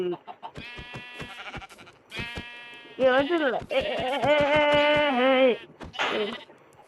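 Repeated high, wavering lamb bleats from Minecraft with a synthetic, game-like tone, some short and some drawn out, interrupted by clicking sounds.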